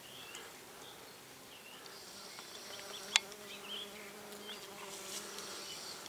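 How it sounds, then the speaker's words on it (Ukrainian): Steady, soft humming of many bees and bumblebees buzzing among linden blossoms outdoors in rain, with a faint rustle and one sharp click midway. "Липа гудить і від жмелів, і від бджоли"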